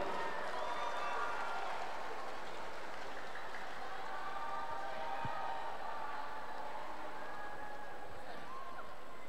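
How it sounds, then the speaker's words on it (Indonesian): Crowd applause at a Catholic cultural festival in North Sumatra, a dense, continuous clapping wash filling the whole stretch with voices mixed in. "Kita berikan tepuk tangan yang meriah, teman-teman."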